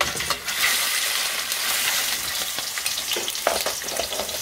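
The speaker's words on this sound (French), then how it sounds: "la viande va être saisie" A veal roast, its barding removed, sears in hot olive oil, giving a loud continuous sizzle with crackles and a few sharper spits, close and unbroken, with no voices over it.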